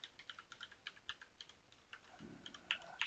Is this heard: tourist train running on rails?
no